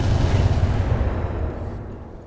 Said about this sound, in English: AMS ammo explosion.